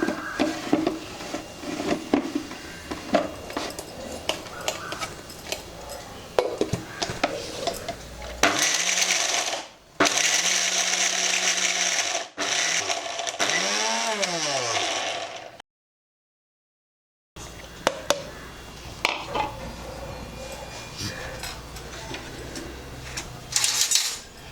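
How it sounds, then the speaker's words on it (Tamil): A kitchen mixer grinder runs in loud bursts, crushing coconut and raw mango for chutney, its whine rising and falling between stops, with a brief silence and clattering sounds around it. "பிறகு தேங்காய் மாங்காய் நல்லா அரைச்சாச்சு"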